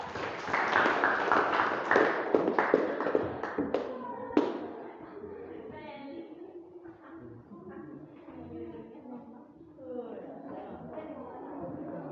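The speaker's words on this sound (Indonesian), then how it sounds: "Mari kita berikan tepuk tangan yang kedua." Audience in a classroom or hall clapping, a dense burst of hand claps that thins out over the first few seconds, followed by quieter murmuring and voices.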